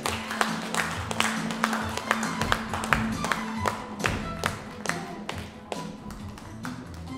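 Clapping rings out in a hall at a district family-traditions event as families come down from their seats, with sharp, fairly regular claps over a low steady musical hum that continues throughout.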